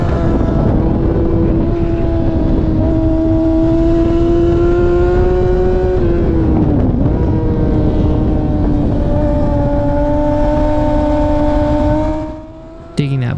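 A supersport motorcycle runs at full throttle on a race track, its engine holding a loud, steady high-revving whine that dips briefly around a corner and climbs again, close and continuous before cutting off near the end.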